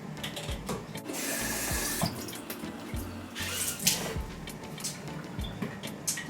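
Water running from a tap into an Oral-B Aquacare 6 cordless water flosser reservoir, a steady close stream with splashes and drips, moderately loud.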